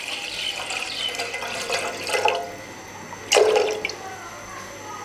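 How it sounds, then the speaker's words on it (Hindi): Half a litre of full-fat milk is poured into a bowl, a soft, steady liquid stream close by that rises in two brief louder splashes. "यहाँ पे हमने लिए एक बाउल, इसमें डालेंगे दूध।"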